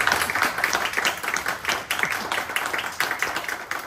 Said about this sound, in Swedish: med en stor och varm och innerlig applåd tackar jag